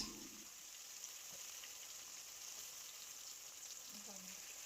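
Chopped onions sizzle faintly in hot oil alongside a bay leaf, a quiet, even frying hiss with no pauses.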